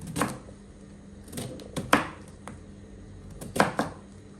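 A knife chopping beetroot on a board, several quick uneven cuts in short bursts separated by pauses, close and moderately loud.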